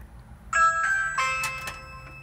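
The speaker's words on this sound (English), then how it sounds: "Alright, now how do I make the doorbell ring?" Ring Video Doorbell Pro chime heard indoors, a few bright bell tones ringing out in quick succession and sustaining briefly, fairly faint against a quiet room.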